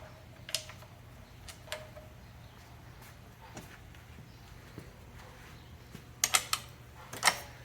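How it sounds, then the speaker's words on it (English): Wrench work on the motor bolts of a Bridgeport milling machine with a 9/16 wrench, faint scattered metallic clicks and ticks, a quick cluster of sharper clicks near the end over a low steady hum. "we are now removing the 2 motor bolts. Should be a 9/16 wrench"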